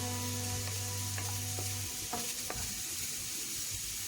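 Ginger, green chilli and garlic sizzle steadily in a pan while a spoon stirs them, with a few scraping knocks against the pan and a low hum fading partway through.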